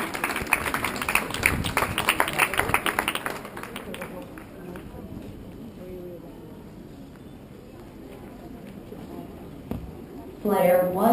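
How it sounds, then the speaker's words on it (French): Audience applause for a solo performer on stage, a dense burst of clapping that fills the room, then fades as music and other sounds take over, with a short loud burst near the end. "On peut l'applaudir."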